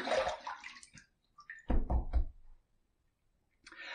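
Tap water runs in short bursts as a brass safety razor is rinsed after shaving, with a couple of clunks against the sink and brief pauses between splashes.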